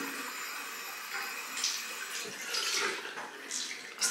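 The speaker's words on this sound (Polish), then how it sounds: "Moczę sobie gąbeczkę, dlatego słyszycie wodę." Steady rush of tap water running to wet a makeup sponge, close and continuous with slight shifts in the splashing.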